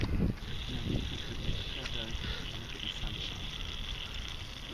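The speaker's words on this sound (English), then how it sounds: "you can hear the steam" Steady steam hiss from a clothes iron pressed onto steak and bread, a constant broad rush running throughout at moderate level, with a voice faintly present underneath.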